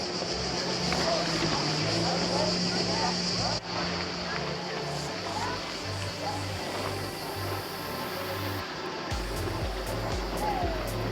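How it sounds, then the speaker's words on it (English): A jet ski motor drones steadily over water, with waves and wind noise throughout and a deeper engine rumble swelling near the end. "That must be their jet ski out there too."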